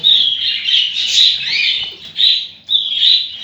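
Budgerigars in a breeding aviary chirp continuously, a dense high warbling chatter with brief dips, loud and near.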